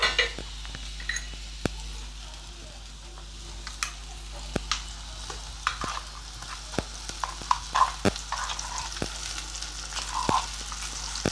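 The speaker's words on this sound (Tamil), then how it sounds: "இப்போ நம்ம அரைச்சி வச்சதை இதில் ஊற்றிக்கணும்" Ground spice paste for a Nellai-style tamarind curry is poured into hot oil and fried, giving a soft continuous sizzle broken by sharp clicks and clinks of a spoon stirring against the pan.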